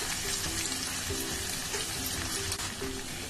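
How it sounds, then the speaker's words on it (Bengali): Ginger garlic paste frying in a pan for a Bengali jackfruit curry, a steady close sizzle with broadband hiss throughout and faint clinks, no talking. "এবার অ্যাড করব আদা রসুনের পেস্ট।"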